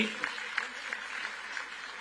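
Scattered audience clapping at a Punjab government event where newly appointed ETT teachers are honoured, a moderate, uneven patter of hands across a hall, fairly brief.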